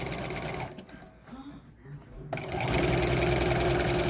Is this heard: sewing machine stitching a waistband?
yes